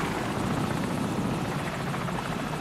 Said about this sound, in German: Feindlicher Helikopter.